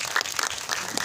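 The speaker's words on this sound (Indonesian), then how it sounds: "boleh kita berikan tepuk tangan?" Brief burst of applause from a press conference audience for an Indonesian film, a dense patter of clapping at moderate level with no talk.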